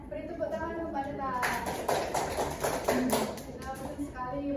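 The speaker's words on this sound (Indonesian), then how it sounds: "Beri tepuk tangan untuk Mbak Neta." In a classroom, a short burst of clapping for a student rises for about two seconds amid ongoing speech, with scattered hands patting unevenly rather than forming a full ovation.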